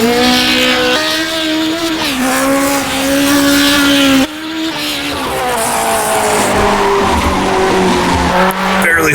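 A 1960s Formula 1 Cooper slides through corners in the rFactor 2 racing game, its engine droning loud and steady while the tyres skid and squeal continuously, pitch wavering as the car wags back and forth.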